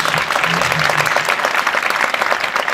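Sustained audience applause at a conference on Çanakkale hosted by Tavşanlı municipality in Turkey, a dense, even burst of clapping from a large crowd, loud and continuous.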